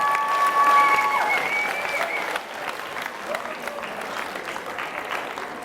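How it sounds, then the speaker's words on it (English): Students in a high school audience at a youth motivational talk applaud loudly, dense sustained clapping that softens slightly partway through, with a few tonal ringing lines early on. "Give yourselves a round of applause,"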